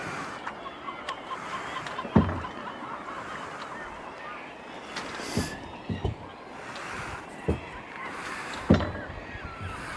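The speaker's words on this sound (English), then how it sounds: "Look at all the birds." Seabirds calling at sea off the Welsh coast near Skomer Island, scattered honking and squawking cries at varying distances over wind and water noise, with a few louder sharp calls standing out.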